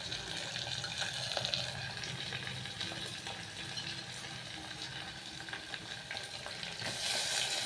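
Tomato and potato hit a hot frying pan for khichdi, giving a steady close sizzle and crackle of oil that runs throughout with light stirring scrapes and no voices.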